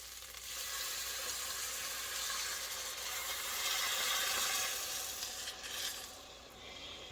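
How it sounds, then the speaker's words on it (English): Beef broth poured into a hot pan of frying rice for Mexican-style rice, a steady sizzle that swells and hisses, then eases toward the end, close and fairly loud with no talking. "I'm going to go ahead and add 2 cups of beef broth"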